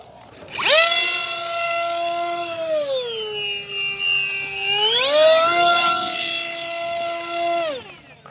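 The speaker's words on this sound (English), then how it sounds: "it's got a scream from the motor and prop combination" The electric motor and propeller of an FMS Easy Trainer 1280mm RC trainer plane scream in flight, a loud, sustained whine that rises and falls in pitch as it passes and throttles, without talking.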